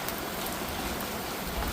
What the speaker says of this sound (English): It's raining hard. I love monsoon rains.